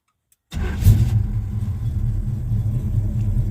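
After a moment of silence, a 1978 Oldsmobile Cutlass engine cranks and fires up, settling into a loud, steady, rumbling idle close by.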